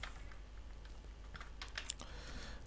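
A title is typed on a computer keyboard while filling in an Upwork account profile. Soft, quick keystrokes run steadily, with a denser, sharper cluster of clicks partway through, close up and alone.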